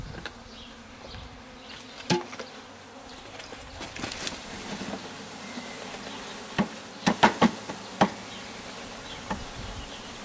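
Honey bees swarming around a newly installed backyard hive, a steady close buzzing drone with scattered sharper knocks and taps, no talk.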